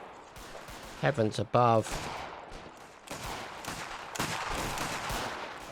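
Shotgun or blunderbuss blasts from a video game battle in the Anglo Zulu mod, a few sharp bursts early on amid ongoing gunfire and commotion, with someone speaking over them.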